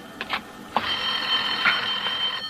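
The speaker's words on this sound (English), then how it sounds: "Oh, Lorna, there's a phone." An old-fashioned telephone bell rings loud and close in a continuous electric trill lasting a couple of seconds, after a few short ticks, in a 1948 suspense mystery radio drama.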